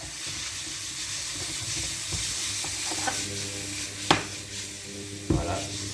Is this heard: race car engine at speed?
no